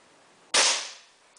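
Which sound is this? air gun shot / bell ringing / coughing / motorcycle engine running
air gun shot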